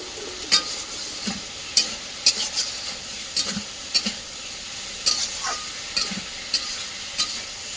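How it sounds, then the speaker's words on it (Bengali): Spiny gourd (kankrol) shukto curry being stir-fried in a pan, a soft background sizzle with scattered sharp clinks and scrapes of a spatula against the pan, near and without talk. "তরকারিটা আমি ভালো করে একটু কষিয়ে নেব"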